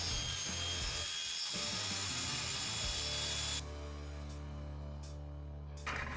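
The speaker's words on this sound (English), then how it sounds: "to make the cut, I'm going to be using my crosscut sled." A table saw on a crosscut sled cuts through wood with a loud, steady motor roar and a grinding bite that eases as the blade clears the board, leaving the saw spinning alone.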